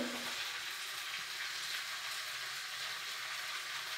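A frying mixture with turmeric and salt sizzles steadily in a pan as it is stirred, a dense continuous hiss heard close up without speech.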